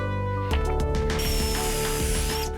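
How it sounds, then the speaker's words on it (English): An impact driver drives pocket screws into wood in a workshop, giving a loud continuous ratcheting hammer over the steady whine of the motor for about two seconds. "I'm also using an impact on this"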